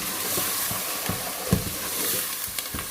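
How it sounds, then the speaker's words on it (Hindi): Masoor lentils roast in a pan for palak masoor dal, giving a soft, steady sizzle with a few sharper scrapes and knocks from stirring, near and with no talk. "ऐसे इसे भी भून लेते हैं, दाल को भी"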